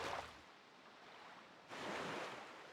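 Ocean waves wash and surge steadily while sailing at sea in the Wind Waker HD video game, a soft, breathy rush that swells louder toward the end, with no voices.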